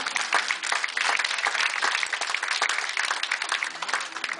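Audience applause at a casino stage show, dense and sustained clapping from a crowd throughout, fairly near and steady with sharp individual claps poking through.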